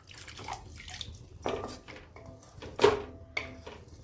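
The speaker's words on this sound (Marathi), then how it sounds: "आपण दोन वाट्या पाणी टाकणार आहे" Two bowls of water splash and pour in a few bursts into a pan of sautéed grated potato, with clinks and handling noises between, close by and fairly quiet.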